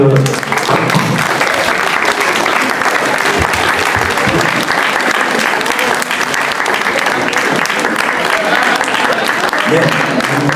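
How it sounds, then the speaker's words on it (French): A large audience at a book fair applauds loudly and steadily, dense continuous clapping filling the whole stretch with a few voices murmuring underneath. "si vous pouvez encore l'applaudir"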